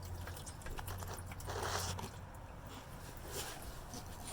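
Diesel fuel draining from the fuel filter drain valve of a RAM 2500 6.7 Cummins pickup: a faint, steady liquid trickle and pour under low background noise, with no voices.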